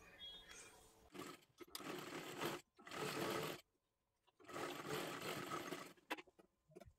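An electric sewing machine stitching a katori blouse runs in several loud whirring bursts separated by short silences, with faint talk between runs.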